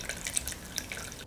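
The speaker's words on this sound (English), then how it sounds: "You're going to pour this through the cheesecloth." Melted butter pours through cheesecloth over a sink, with faint, soft dripping and trickling throughout a short, quiet moment.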